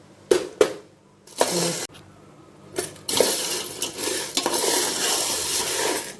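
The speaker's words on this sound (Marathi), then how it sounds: "जे जाडं जाडं आहेत ते थोडंसं तेल टाकून आपण भाजून घेतो" Thick whole spices being dry-roasted and stirred in a little oil in a pan for a homemade year-long masala blend, including nutmeg; scraping stirs and clinks build into a continuous close sizzling rustle, with no speech.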